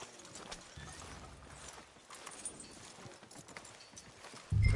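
Horse hooves clip-clop along a street in the Western video game Red Dead Redemption 2, a steady walking rhythm at moderate distance with a louder thump near the end.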